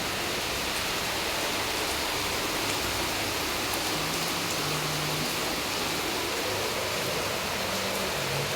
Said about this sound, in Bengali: আর ঝমঝম করে বাইরে বৃষ্টি হচ্ছে